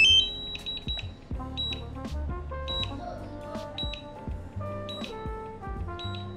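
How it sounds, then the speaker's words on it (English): A small indoor drone sounds a string of sharp, high electronic beeps in an irregular pattern, some repeating in quick runs, fairly close and clear with no talking. "I don't know why it's beeping."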